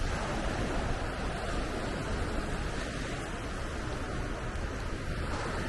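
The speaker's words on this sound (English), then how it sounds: "this is the Atlantic Ocean" Atlantic Ocean surf on a New Hampshire beach, a broad steady wash of breaking waves, soft and diffuse with no voices.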